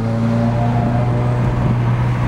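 Car engine under hard acceleration in a street race, a loud, steady droning roar with sustained tonal engine hum throughout, heard from inside without speech.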